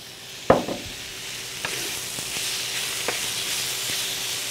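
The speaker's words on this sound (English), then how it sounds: "I'm gonna add some of my sausage" Sausage links sizzling as they go into a hot seafood paella pan, with a sharp impact at the start, then a steady frying hiss and a few scattered clicks of stirring and scraping, no talk.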